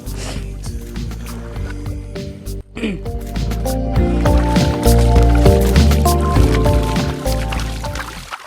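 Water splashes and drips over a Hero Splendor motorcycle during hand washing at Urmudi Dam, with squishing and wet rubbing sounds, growing louder partway through.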